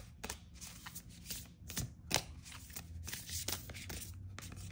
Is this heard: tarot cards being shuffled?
yes